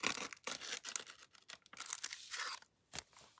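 Paper is trimmed for a handmade flip flop journal, crisp close cutting and crinkling in short bursts, with a few brief pauses between strokes.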